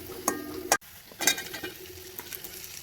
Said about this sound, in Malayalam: ഇഞ്ചി, പച്ചമുളക്, വെളുത്തുള്ളി എല്ലാം ഇട്ട് നല്ലവണ്ണം ഒന്ന് മൂപ്പിച്ചെടുക്കാം.